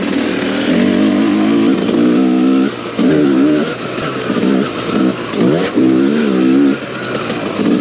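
A 2022 TM EN300 Fi enduro motorcycle with throttle body fuel injection revs up and drops back again and again, close and loud, with a buzzing engine tone that rises and falls.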